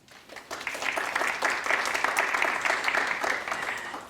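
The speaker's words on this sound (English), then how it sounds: "Thank you all for that applause" An audience applauds to welcome a speaker at a public talk on sleep and brain health. The clapping swells quickly from a quiet start and holds as a dense, even patter to the end.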